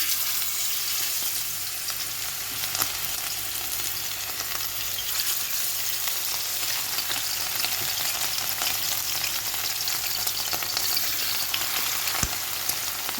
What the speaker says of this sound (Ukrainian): бачите, як вони тут прожарюються?